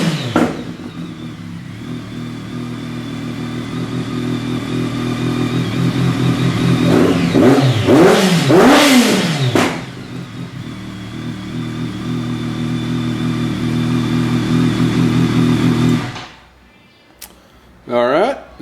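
A BMW K1200S motorcycle fitted with a black Remus PowerCone exhaust idles and is revved, the engine climbing in repeated sharp bursts before settling, loud and close, then falling quiet near the end.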